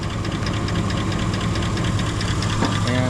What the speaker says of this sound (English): that will engage the compressor and keep it on until we suck the can down in there